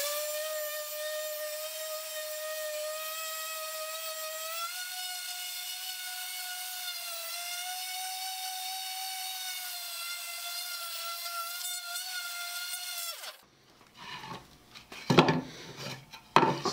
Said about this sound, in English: I want to set the sander on the surface, and then while it's sitting there engaged, I want to turn it on.